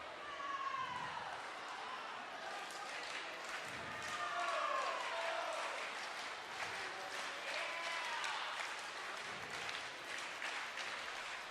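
Spectators clap and cheer at a girls' high school swimming meet in an indoor pool, steady applause with scattered shouts and echoing voices, an announcer talking over it.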